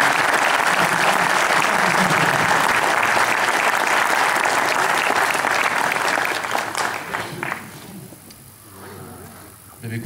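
An audience at a military school colloquium breaks into loud, sustained applause for about seven seconds, which then thins out and dies away into quieter room noise.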